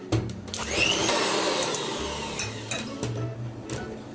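Electric hand mixer beating oatmeal date muffin batter in a bowl, a steady loud whirring drone close by with small rattles and clicks, no voices.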